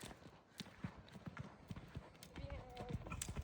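A horse's hooves clip-clop at a steady, even pace on an arena surface during a riding lesson, close and moderately loud, while an instructor talks over them.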